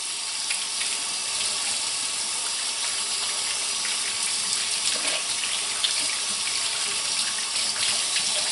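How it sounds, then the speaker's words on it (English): Tap water runs steadily as lard soap is rinsed off hands, a continuous close splashing hiss under the faucet with no talking. "I'm going to rinse it off."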